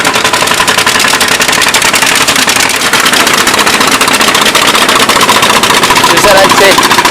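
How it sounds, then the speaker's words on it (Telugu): Fishing boat engines chugging at Bhavanapadu as boats come in one after another, a loud, steady, close mechanical throb with a faint rhythmic knock running throughout. "మీరు చూసుకున్నట్టయితే వరుసగా వస్తున్నాయి బోట్లు అనేవి"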